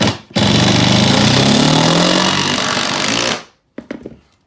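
A power drill drives 2-inch deck screws into a floor, giving a loud, steady whirring grind for about three seconds with a rising pitch, then it stops abruptly and a few short knocks follow.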